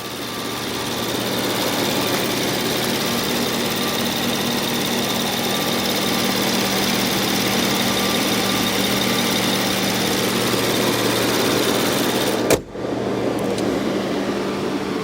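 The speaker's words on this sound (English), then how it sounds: "It's making a lot of noise right now because it's trying to cool itself down in this hot day." A 2011 Rolls-Royce Ghost's engine runs steadily on a hot day with the cooling fan working hard, a loud, constant broadband whir and hum with a low drone, unbroken apart from a brief dropout near the end.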